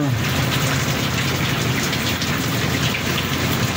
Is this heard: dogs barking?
no